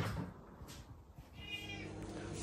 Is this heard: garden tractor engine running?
no